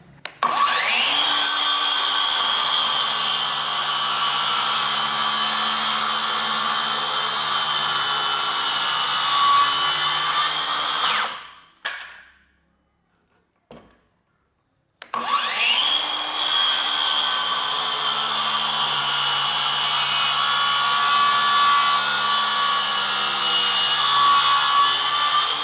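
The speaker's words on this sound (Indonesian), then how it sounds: "sekarang kita langsung coba cross cut ke kayu keras nih" A DCA ADMY02-185 cordless brushless circular saw cross-cuts a 2 by 5 inch bengkirai hardwood board, with a loud, steady, high whining cut that stops, goes quiet for a few seconds and then starts again for a second long pass.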